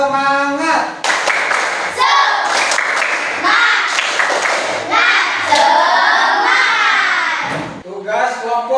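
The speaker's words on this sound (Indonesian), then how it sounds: "Tepuk semangatnya?" A classroom group of children performs a rhythmic spirit clap, with bursts of hand claps in quick patterns mixed with children's chanting voices and shouts.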